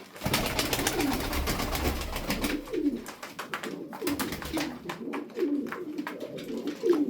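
Male pigeon courting a female with repeated throaty coos in short rolling phrases, close and clear, over a background of soft rustling and flutters.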